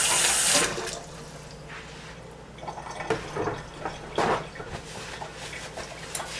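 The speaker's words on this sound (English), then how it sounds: "Wash my hands." Tap water runs as hands are washed in a home kitchen while making pizza, a loud initial gush followed by intermittent splashing and rubbing close by.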